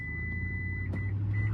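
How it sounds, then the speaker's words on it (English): A steady electronic warning tone sounds inside a 2023 Toyota Sequoia TRD Pro Hybrid, a continuous high beep over a low engine hum, briefly interrupted near the end. "That was an annoying beep."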